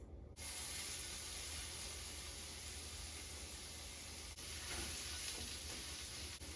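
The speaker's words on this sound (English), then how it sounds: "So it has to sizzle for just a couple minutes. You hear that?" Onions sizzling in butter in a pan, a continuous, even hiss close up that barely changes for several seconds, with no voices.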